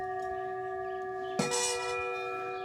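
Bowl from Taiwan ringing with a sustained, steady metallic tone holding several clear pitches, then a fresh strike or bump adds a bright burst of overtones while the ring carries on, quiet and close.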